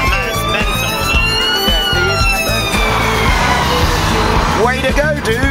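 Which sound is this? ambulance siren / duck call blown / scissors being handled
ambulance siren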